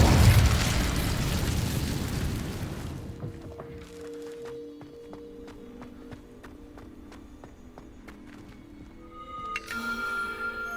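A burst of crackling fire from the Incendio spell in Hogwarts Legacy, loud and dense for the first three seconds, then fading into quieter game ambience with scattered light clicks and tones.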